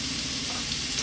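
Ginger dropped into hot sunflower oil over high heat gives a dense, loud, close sizzle that fills the whole brief moment without pause.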